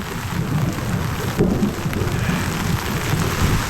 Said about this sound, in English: The rain made everything far more difficult.